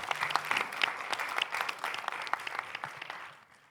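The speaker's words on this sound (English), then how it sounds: "Please applause" Applause from the audience at the final of a sommelier competition, dense steady clapping that fills the room and fades away toward the end.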